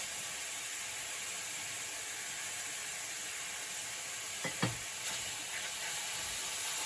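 Bananas sizzling in honey in a very hot pot on a high-heat stove, a faint steady hiss with a couple of soft clinks near the end.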